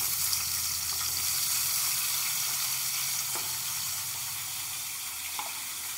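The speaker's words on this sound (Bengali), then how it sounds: "গাজর কটা এভাবে আমি ভেজে নেব।" Carrots frying in oil left from beans for veg fried rice, a steady close sizzle and hiss with a couple of faint utensil clicks, no talk.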